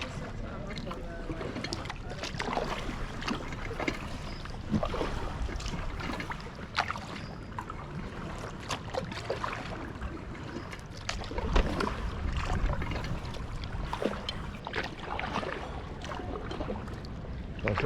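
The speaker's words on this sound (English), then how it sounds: "I'm just having a little paddle, a little explore." An inflatable kayak paddles along the River Foss in York, with soft rhythmic splashes and water sloshing near the boat, and someone speaking intermittently over it.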